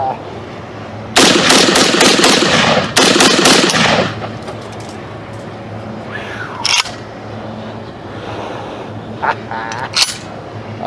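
Loud Smith & Wesson M&P 10mm pistol gunshots with hot loads, fired in quick strings, two dense bursts early on, followed by a few scattered, quieter bangs and clicks.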